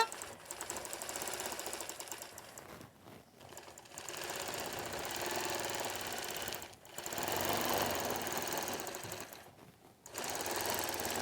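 A longarm quilting machine stitches border designs along templates on a clamped baby quilt, running in steady rapid bursts of several seconds with brief pauses between them, fairly quiet and free of talk.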